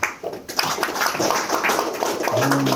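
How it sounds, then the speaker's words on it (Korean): Applause breaks out in a hall at a Korean military forum seminar: a dense, loud burst of many hands clapping that swells after a brief pause and carries on steadily to the end. "다시 한번 박수 부탁드립니다"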